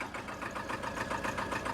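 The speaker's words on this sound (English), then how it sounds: "So that's a 1962 Porsche Diesel Standard." A 1962 Porsche Diesel Standard tractor fitted with a factory three-point mower runs steadily, its diesel engine giving a close, even, rapid knocking chug with no other sounds.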